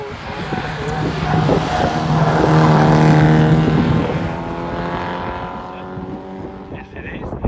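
A fairly standard MGB GT 1.8 litre races up a hillclimb course, its engine note loud and close as it rises in pitch, holds a strong steady drone, then falls away as the car moves off.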